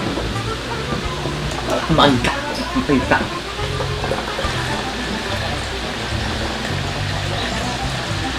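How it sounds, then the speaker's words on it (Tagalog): Water pours steadily into a mix of Emperador brandy and Red Horse beer, a continuous close hiss and splash under a brief spoken exchange. "Lalagay na natin yung tubig."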